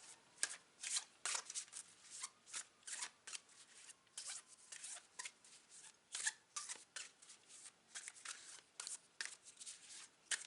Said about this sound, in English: I'm now going to pull out a animal spirit guides card